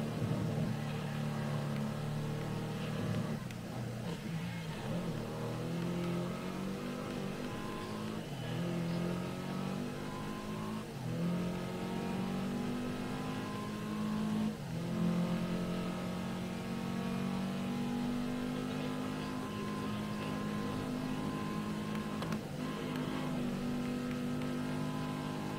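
Chevrolet Camaro racing in GRID Legends: a steady, throaty engine drone with rising and falling pitch through gear changes and cornering, sustained and close for the whole stretch, with faint background sound.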